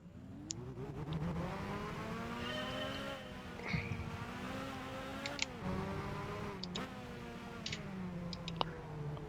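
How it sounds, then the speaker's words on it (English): A Jaguar XJ220 concept with a V12 engine, sport suspension and all-wheel drive runs a lap of the Top Gear test track in Gran Turismo 5, its engine droning steadily with rising and falling pitch through gear changes, with faint clicks over it. "So what better way to test the car around the track but with the Top Gear test track?"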